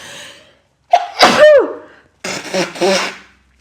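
A loud, close sneeze after a short breath in, followed by a second burst, with quiet pauses around them.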